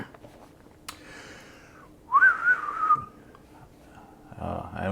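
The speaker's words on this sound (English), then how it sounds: "I haven't whistled in a while." A person whistles a short, wavering tune of a few notes close by, alone after a quiet pause, with faint room sounds and a bit of shuffling before and after.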